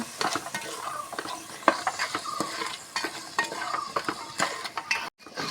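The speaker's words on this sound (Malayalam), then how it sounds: "ഉപ്പ് ആവശ്യത്തിന് നന്നായി വഴറ്റി കൊടുക്കുക" Onions and salt stirred and sautéed in coconut oil in a pan, scraping and clinking steadily with a soft sizzle under a busy, close rhythm of utensil strokes.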